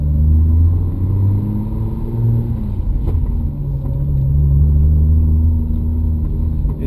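A turbocharged Lexus IS300 with an RPS twin carbon clutch pulling away, its engine rumbling loudly up close with low revs rising and falling, and no talking.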